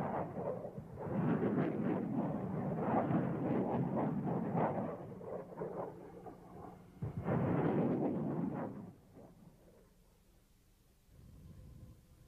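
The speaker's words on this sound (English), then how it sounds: "As we see in this test footage, the small submunitions blanket a wide area." MLRS rocket submunitions exploding across a wide area during test firing: dense, rolling crackle of many overlapping blasts forming a long rumbling roar, a short pause, then a second loud burst before a low fading rumble.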